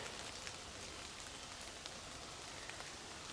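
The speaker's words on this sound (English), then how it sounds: "it's raining. It's been raining all night, and it's raining pretty good" Steady rain falling outside after a night of rain, a dense, even hiss with scattered drop patter, continuous and fairly faint.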